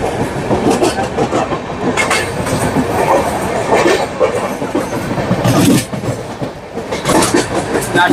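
The Coromandel Express runs on the tracks with a loud, steady rumble and rhythmic clickety-clack of wheels over rail joints, heard from on board the moving train near Tondiarpet station.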